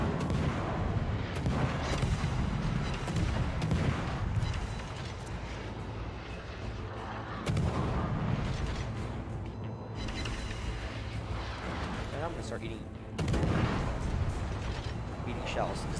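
Heavy naval gun salvos in World of Warships, booming blasts at intervals over continuous battle rumble, with a player talking throughout.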